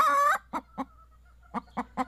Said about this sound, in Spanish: cacarear después de poner un huevo es música para sus oídos